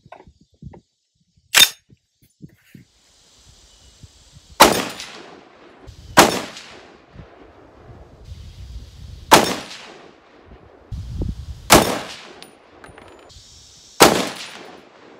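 Loud, sharp rifle shots from a .300 Winchester Magnum AR-10 at a 100-yard zeroing range, six reports spaced a second or more apart, each with a ringing tail and quiet handling noise in between.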